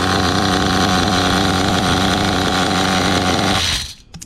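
The vintage nitro engine of a rusty OFNA Mutilator RC car, run with the servo tray removed, screams loud and steady up close with a harsh buzzing tone, then cuts out abruptly near the end.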